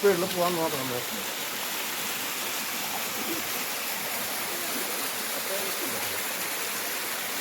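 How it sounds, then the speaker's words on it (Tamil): A small waterfall in dense forest on the Agasthyarkoodam trek gives off a steady, broad rush of falling water, close and continuous, with a brief voice at the very start. "நான் ஒரு சின்ன ஒரு குட்டி ஃபால்ஸ் வருது"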